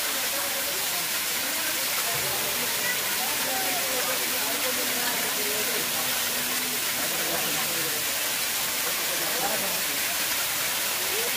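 Waterfall at Kapila Theertham in Tirupati, a steady broad rush of falling water filling the whole scene, with murmuring crowd voices faint beneath it.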